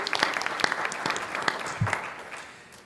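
A conference crowd applauds Congressman Clay with a scattered, thinning round of clapping. Individual claps stand out near the start before the sound fades away.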